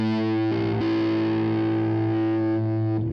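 Electric guitar played through a Kemper Fuzz distortion effect on the bridge pickup: a thick, saturated fuzz chord sustains loudly for about three seconds, shifting pitch once early on before cutting off.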